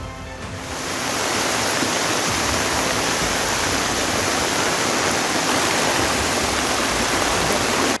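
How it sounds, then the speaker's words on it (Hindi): Floodwater from the overflowing Purna river rushing through Navsari town after heavy rain gives a steady, loud, broadband roar that swells in within the first second and then holds constant. "भारी बारिश की वजह से उफनती हुई पूर्णा नदी के पानी ने पूरे शहर को नदी बना दिया।"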